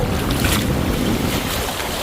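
Steady, loud wind buffets the microphone on a Caribbean island shore, a constant broadband roar with surf and water noise mixed in, and no voices.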